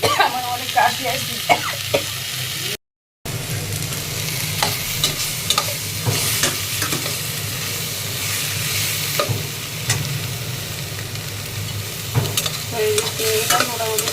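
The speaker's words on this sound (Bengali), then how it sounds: "চিংড়িটা মোটামুটি ভাজা হয়ে গেছে," Prawns sizzle in a frying pan at home with a continuous close crackle, overlaid by irregular scrapes and clacks of stirring, broken briefly by a short silent gap.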